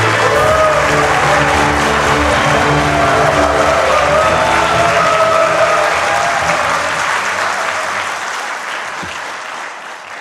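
A large ceremony audience applauds and cheers loudly, a dense continuous roar of clapping and shouts that carries on throughout and eases slightly toward the end.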